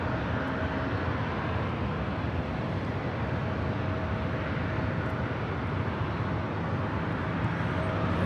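A Spirit Airlines Airbus A320neo lands at Los Angeles airport, a steady, wide jet roar that stays even and moderately distant for the whole stretch.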